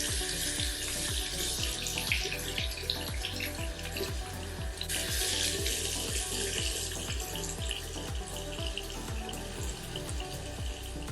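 Steady tap water runs into a sink throughout, loud and close, with faint rubbing while skin is scrubbed under the stream to test a 2023 Revlon ColorStay liner.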